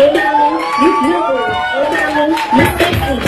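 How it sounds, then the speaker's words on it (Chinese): A crowd cheers and screams loudly and steadily, with high shouted voices and whoops rising and falling throughout, followed by a fresh burst of yelling near the end. "如果你喜欢他的话，记得要给他掌声跟尖叫哦。"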